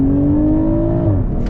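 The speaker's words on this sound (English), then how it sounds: "let's get our full-blown acceleration here" A 2022 BMW Z4 M40i accelerates at full throttle, its engine a loud, steady droning tone that climbs slightly in pitch, heard up close with no talking.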